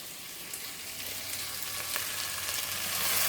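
Onions frying in a pan give a steady, close hiss and crackle that swells a little toward the end, with no talk over it.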